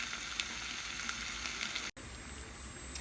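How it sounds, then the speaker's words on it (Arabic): Merguez sausages fry in a dry pan with no oil, giving a steady close sizzle and crackle that runs without a break apart from one very short dropout. "ونخليوه يتقلى، ما نضيفوا لا زيت لا والو"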